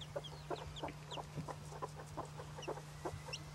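Bantam hen with her chick, giving soft repeated clucks and high thin peeps at a steady rhythm over a low constant hum, close and fairly quiet.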